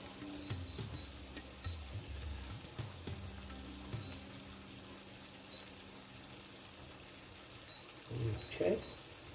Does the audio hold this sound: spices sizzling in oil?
yes